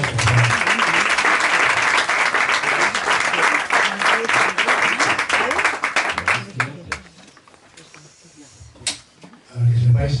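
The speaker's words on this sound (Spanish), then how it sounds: "Un aplauso." An audience claps at a book presentation, loud dense applause for roughly seven seconds that thins into scattered claps and quiet room noise, with a brief swell of clapping returning at the very end.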